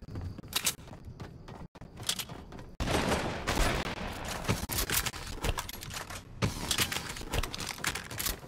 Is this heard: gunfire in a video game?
yes